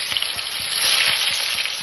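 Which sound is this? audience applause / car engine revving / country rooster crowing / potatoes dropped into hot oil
potatoes dropped into hot oil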